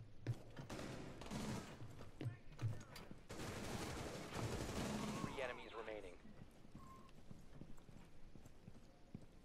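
Gunfire in the video game Rainbow Six Siege rattles in fairly quiet, sustained bursts for several seconds before fading into softer game sounds, with voices in the background.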